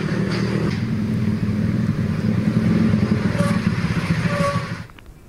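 Cars and motorcycles streaming along the Pantura road in Cirebon during the post-holiday return rush, a steady dense engine rumble of passing traffic that fades near the end.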